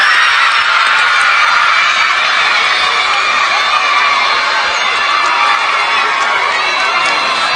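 Schoolchildren at a consular school cheer and clap as a visiting state minister leaves, a loud continuous roar of young voices shouting and whooping with applause mixed in, filling the whole stretch without letup.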